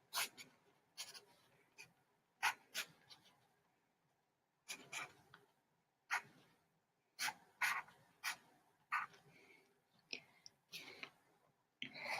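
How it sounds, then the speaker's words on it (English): A pencil sketching on paper, close and quiet, with irregular bursts of scratchy strokes separated by short pauses and soft breathing in between. "just use pencil paper and just draw out the profile of your spaceship on one half of the paper"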